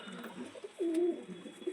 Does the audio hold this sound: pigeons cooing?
yes